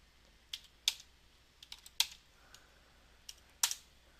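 Keystrokes on a computer keyboard as a CAPTCHA code is entered, a handful of separate clicks and short bursts spread unevenly across a quiet background, close and fairly soft with no talking.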